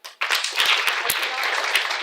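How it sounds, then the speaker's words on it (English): An audience at a campus International Women's Day prize ceremony breaks into sustained clapping for absent winners, starting abruptly and carrying on as a dense patter of many hands close by. "just a clap for them"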